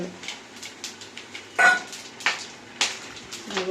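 Whole biryani spices, including cloves, cardamom, shahi jeera, fennel and marathi moggu, crackle in hot oil in a pan, with sharp scattered pops and light clinks over a soft sizzle.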